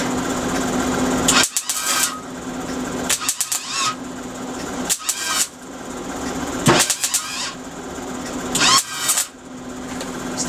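A SIP MIG welder burning holes through thin metal gives a steady close crackling buzz, broken by several short pauses and sharp bursts as the arc stops and restarts.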